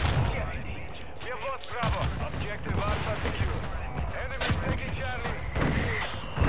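Fireworks pop and bang in quick irregular bursts, loud and sharp, mixed with people's excited voices and shouting nearby.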